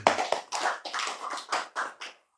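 A few hands clap in a short, uneven burst of about nine separate claps at a religious lecture, close and fairly loud, then stop.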